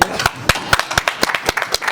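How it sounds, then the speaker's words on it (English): A few people at a boxing press conference with Eddie Hearn and Matchroom clap in a sparse, fairly close series of distinct claps, roughly four per second, with no crowd roar behind them. "we got to give Mr. Eddie Hearn and Matchroom a round of applause for tonight"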